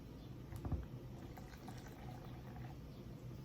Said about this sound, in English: I'm going to be adding some water. Just regular water.